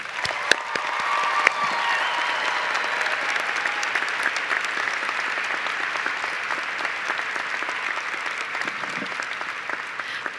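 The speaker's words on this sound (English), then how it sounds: "I would ask you to give them all one more round of applause." Sustained applause from a large commencement crowd at a university graduation ceremony, dense and steady clapping for newly commissioned officers, holding at full strength for about ten seconds with no talk over it.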